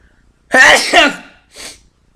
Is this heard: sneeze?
yes